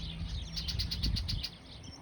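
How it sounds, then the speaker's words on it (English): Loud birds chirp outdoors in a quick run of shrill, repeated tweets lasting about a second, over a low background hum. "The loud birds are back."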